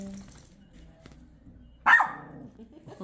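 A puppy at a veterinary clinic lets out a single sharp bark partway through an otherwise quiet room with faint background sounds.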